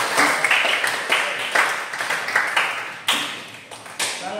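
Classroom applause: a steady, fairly close patter of many hands clapping, with a few sharper claps standing out, continuing throughout without speech.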